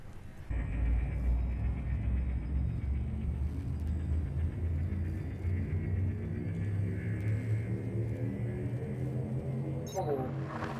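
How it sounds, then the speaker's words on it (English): Spaceship jump drive in Elite: Dangerous spooling up, a deep rumbling hum with layered rising tones that swells and builds steadily, ending in a sharp whooshing sweep, while a voice speaks faintly underneath. "the sound work of everything spooling up to propel you light years in your selected direction"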